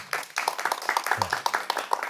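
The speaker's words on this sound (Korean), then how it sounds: "박수 쳐주세요" An audience at a live talk claps in fairly regular, distinct strokes, close and moderately loud, with some voices mixed in.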